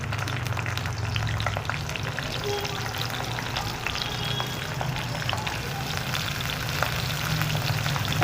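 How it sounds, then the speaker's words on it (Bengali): Cauliflower pieces fry in about three spoons of white oil, a loud continuous sizzle with crackling pops and a steady low hum underneath. "এবারে তেলেতে প্রথমে ফুলকপিটা দিয়ে দিই।"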